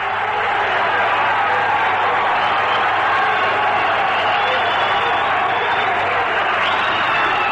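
A baseball crowd at a Cubs game in Chicago keeps up a continuous roar of cheering, applause and whoops, loud and unbroken throughout.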